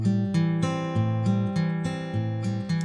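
Travis-style forward roll picked on guitar, thumb and fingers plucking a repeating pattern of clear bright notes at a steady, even pulse, close and alone.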